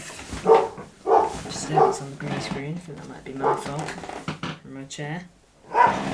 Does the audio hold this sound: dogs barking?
yes